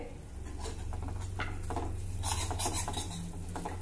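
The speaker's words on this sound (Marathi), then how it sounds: "आता हा सुका खोबऱ्याचा कीस देखील आपल्याला खमंग भाजायचा आहे" Grated dry coconut roasting in ghee, stirred with a spoon in a pan, giving steady scraping and rasping strokes over a low sizzle, close and continuous.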